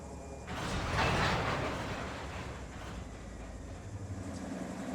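A Union Pacific freight train rolls on the Arvin Branch near Bakersfield in Run 8 Train Simulator, a close, rumbling, creaking mechanical roar of rail cars that swells to a loud peak early on, then settles into a steady grinding rumble.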